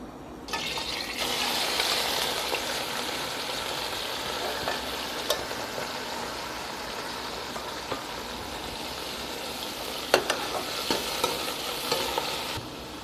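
Mutton frying in hot oil in a kadai on a stove, a steady sizzling hiss with occasional stirring clinks and scrapes, close and unbroken, no talking.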